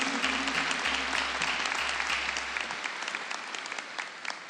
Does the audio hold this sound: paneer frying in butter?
no